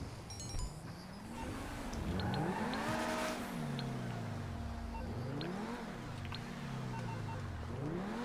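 Video game car engine revving under acceleration, rising and falling in repeated sweeps with a steady high tone above, loud and close throughout with no talk.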